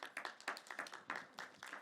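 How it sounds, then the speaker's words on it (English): A few people clap at an organization gathering, sparse and fairly faint, with separate distinct claps in an uneven rhythm rather than a full crowd ovation. "So big applause to Greta."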